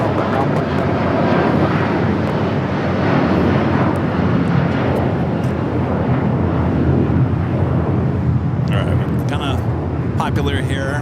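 An airliner landing at LAX airport, a loud, steady roar of jet engines and rushing air sustained throughout, with a voice talking near the end.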